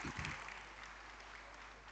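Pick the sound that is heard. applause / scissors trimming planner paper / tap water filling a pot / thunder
applause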